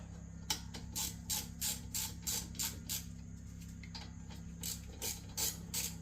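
A ratchet snugs brake caliper bolts on a 2017 Kia Sportage: about a dozen quick clicking bursts in irregular groups, close and fairly faint over a steady low hum.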